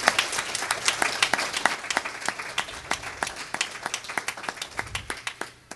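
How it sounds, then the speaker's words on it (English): A church congregation claps hands in a quick, uneven burst of distinct claps, moderately loud and close at first, then thinning to scattered claps toward the end. "huge hand clap"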